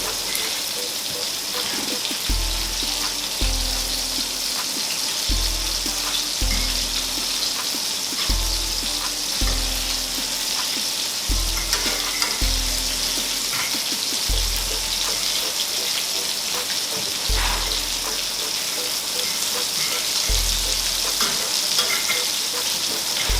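Meatballs frying in a pan with very little oil as their fat renders, a steady crackling sizzle with a repeating low hum pattern underneath, continuous and close.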